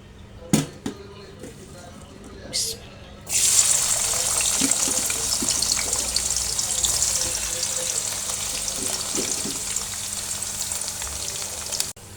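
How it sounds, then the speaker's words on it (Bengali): Onion, green chilli and garlic frying with dried poa fish in a pan, a few sharp knocks then a loud, steady sizzle starting abruptly and continuing close up throughout. "পেঁয়াজটা একটু ভাজা ভাজা হয়ে আসছে"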